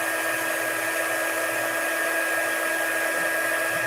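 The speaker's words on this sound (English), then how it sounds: "I'm using the heat tool" Embossing heat tool blowing hot air over a card for a lunar new year design, a steady loud whooshing hum held without a break, close up and without talk.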